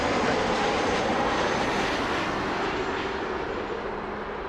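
A plane roars overhead at Toronto Pearson airport, a loud, continuous engine rumble and broadband wash that holds steady and fades only slightly, with no voices.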